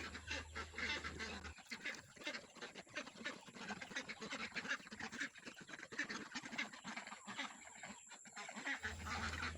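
Muscovy and Peking ducks on a farm honk and quack continuously during feeding with rice bran and feed, a busy chorus of nearby birds with no talking.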